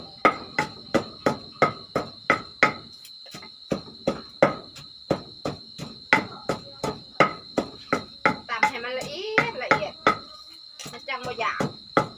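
Crickets chirp steadily in a repeated rhythmic pattern of sharp pulses, loud and close, while a person speaks intermittently near the end.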